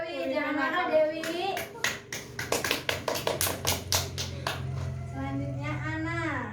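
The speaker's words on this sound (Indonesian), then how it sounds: "Beri tepuk tangan untuk Dewi." A classroom of students applauds a classmate: a burst of quick, close hand claps lasting a few seconds, with a teacher and children talking before and after.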